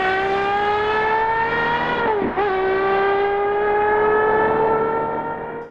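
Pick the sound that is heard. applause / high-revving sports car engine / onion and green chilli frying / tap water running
high-revving sports car engine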